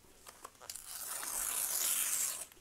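Paper torn by hand for a collage, a few faint crinkles and then one long close rip, quiet and alone.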